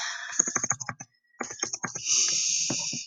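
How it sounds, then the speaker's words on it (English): Keys on a computer keyboard click in quick bursts of typing, close and clear, with a short pause midway before the tapping resumes over a faint high hiss. "He will just start typing here."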